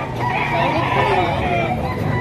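Several chickens and roosters at a live poultry market, with overlapping crowing and clucking that continues steadily under a low, busy background.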